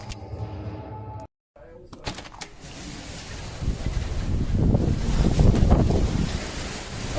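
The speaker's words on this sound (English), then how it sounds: "It's a bit windy here." Strong storm wind roars and buffets against the microphone, building from a lower rush after a brief cut to a heavy, gusting blast with talking over it.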